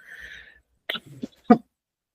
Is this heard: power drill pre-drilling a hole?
no